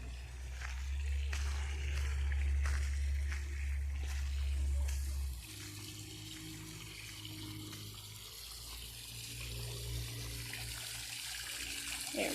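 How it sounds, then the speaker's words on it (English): Water flows continuously in a Japanese peace garden in Moses Lake, Washington, a close rushing stream that softens midway into a lighter trickle, with faint ambient sounds behind it. "Something about water that can be so soothing and calming."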